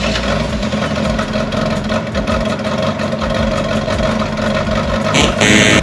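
A Ferrari 360 Challenge Stradale Spider V8 engine running after refitting, a loud continuous idle with a rough, uneven rumble and no voices.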